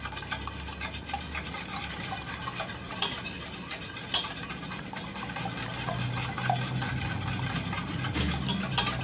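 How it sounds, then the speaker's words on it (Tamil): Two eggs being beaten in a bowl for a homemade egg sweet, a steady busy whisking and clinking of utensil against the bowl that runs continuously with a few sharper knocks, fairly close and with no talking. "முட்டையை 2 அடிச்சுக்கலாம்"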